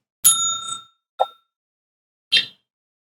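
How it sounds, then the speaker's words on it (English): Three separate bell dings spaced about a second apart, bright and ringing, the first lingering longest, with silence between strikes. "Just under the bell."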